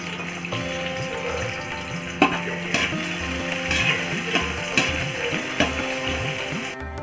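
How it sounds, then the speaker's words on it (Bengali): About 200 grams of sliced onions frying in oil in a pan for Kolkata-style chicken biryani, a close, continuous sizzle and bubbling with occasional sharper pops and crackles. "এবং একটু ভেজে নেবো পেঁয়াজটাকে।"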